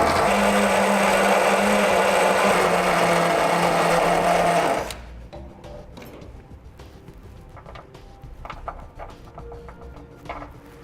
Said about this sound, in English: I'm gonna use a carbide grinding wheel here on a drill to enlarge it.